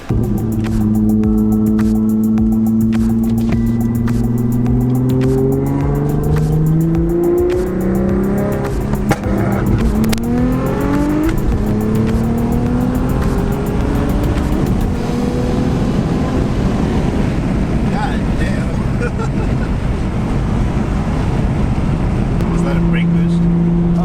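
An Audi S4 running rolling anti-lag, its engine droning and revving loud and close with rising and falling tones, plus rapid crackling pops layered over the sustained roar.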